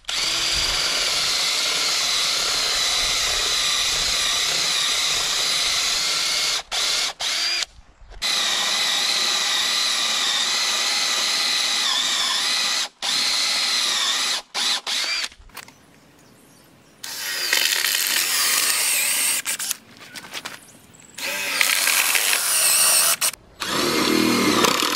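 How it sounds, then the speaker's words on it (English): A power drill whirs loudly in long bursts, boring through wood, with brief pauses between runs and rougher, grinding stretches toward the end. "drill that hole all the way through"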